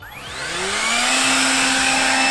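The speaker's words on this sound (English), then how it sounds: "It's a 36 volt blower, but it is actually pretty powerful." A 36 volt cordless leaf blower spins up from a low whine into a steady, loud, high-pitched rush of air close by, its motor pitch rising during the first second and then holding.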